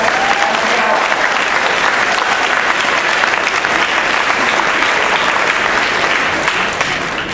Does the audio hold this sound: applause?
yes